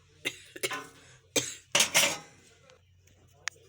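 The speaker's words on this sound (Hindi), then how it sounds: "सॉरी, खांसी आ रही है मुझे" A few short coughs close by, scattered among faint clinks of utensils in a quiet room.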